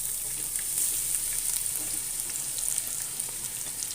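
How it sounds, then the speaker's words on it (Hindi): Sliced onions fry in ghee with a continuous hissing sizzle and scattered small pops and spits, moderately loud and close, with no talking. "प्याज को मैं फ्राई कर लूंगी।"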